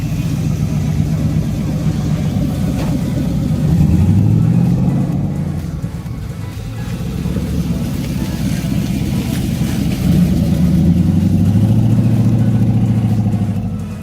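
A 1.2-ton car built with 3D-printed PLA carbon fibre parts runs loud and close, a steady rumbling engine drone that swells twice as the revs rise and fall.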